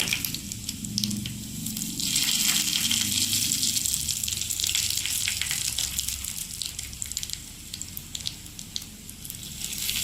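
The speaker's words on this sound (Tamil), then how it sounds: "இப்போ நம்ம எடுத்து வச்சிருக்க கடுகு போட்டுக்கலாம்." Mustard seeds crackle and sizzle in hot oil in a home kitchen while tempering for curd rice, a dense, steady frying hiss lasting throughout without speech.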